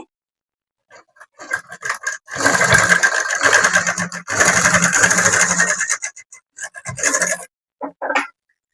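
Sewing machine stitching a fall onto a saree in several short bursts, the longest runs a steady whirring hum broken by pauses and brief starts, close and fairly loud.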